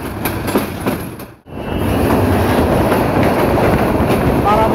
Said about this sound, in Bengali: এই যে ট্রেনটি বিমানবন্দর রেল স্টেশনে প্রবেশ করছে।